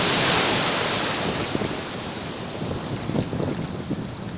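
Large surf breaks on the shore of a shrimp-gathering beach, a loud roar that eases slightly before scattered splashes and churning water follow, with no talking.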